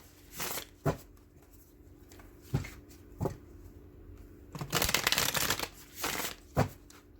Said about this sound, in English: These cards are so hard to shuffle.